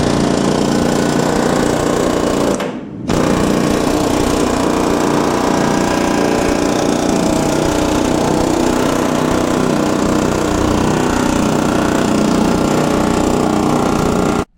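A power tool cuts and grinds out the firewall of a GMC truck, a loud, steady, close-up roar that dips briefly near the start before running on unbroken.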